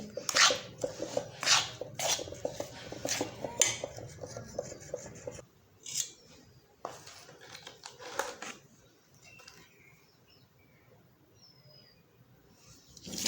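Besan ladoo mixture with chopped almonds and sugar is mixed in a bowl, giving a run of sharp clinks and scrapes at first, then softer, sparser rubbing sounds close by.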